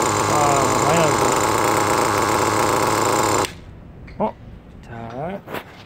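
A small RC model engine running rich with lots of fuel drones loudly and steadily for a few seconds, then cuts off abruptly, leaving brief talk and faint noises.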